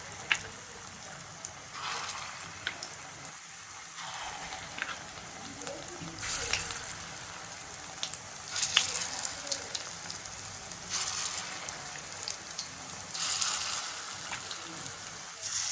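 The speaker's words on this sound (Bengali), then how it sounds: "এইবারে আমি বড়িগুলো এরকম ছোট ছোট বড়াগুলো ভেজে নেব ছোট ছোট করে" Small lentil fritters frying in hot oil in a wok, a soft continuous crackle and hiss with louder bursts as more batter drops in.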